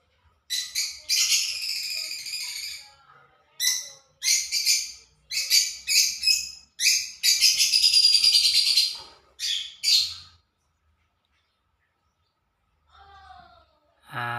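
Bursts of shrill, rapid chirping from small birds, close and loud, in several clusters with short pauses, then quiet before a final brief chirp.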